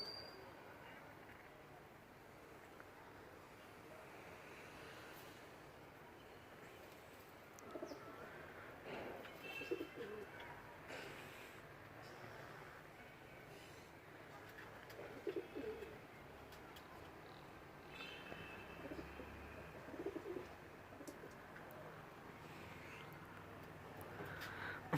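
Pigeons coo softly in the distance, a few low murmuring calls spread over a long stretch of faint outdoor background noise.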